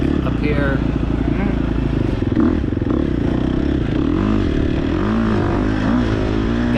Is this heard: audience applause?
no